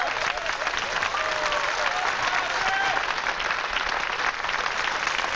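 A live concert audience in Italy applauds a big band, a dense, steady roar of clapping from a large crowd that holds evenly throughout with no breaks.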